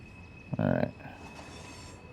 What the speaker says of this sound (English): I also like the squealing of the wheels.